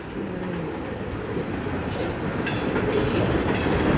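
A slow, heavy CSX westbound mixed freight train rolls past close by, a loud continuous rumble with rail clatter and rising metallic squeal, heard alone without talk.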